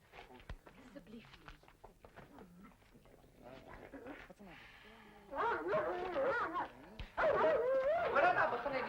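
A dog barks and whimpers on a film set, yelping and whining cries that grow louder and more insistent toward the end, mixed with background voices.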